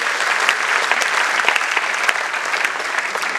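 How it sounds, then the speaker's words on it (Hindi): Loud, sustained applause from an audience at a school annual program in Mumbai, dense clapping rolling steadily and evenly throughout with no voices over it. "एक बार जोरदार तालियों से इनका स्वागत करते रहिए।"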